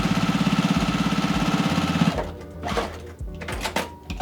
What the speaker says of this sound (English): put them right sides together, sew all the way down, and that will give me the body of this bow